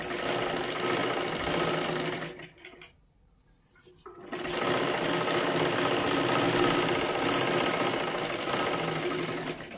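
Sewing machine stitching along the edge of a blouse lining, a loud steady mechanical whir that stops briefly for about a second, then resumes and runs continuously.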